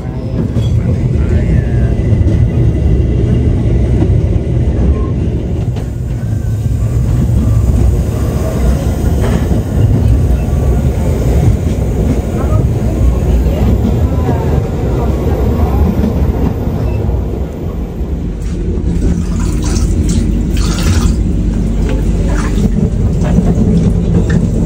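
Inside a carriage of the KA Lodaya Tambahan passenger train, a loud continuous low rumble of the running train fills the space, with rhythmic track clatter and brief rattles throughout.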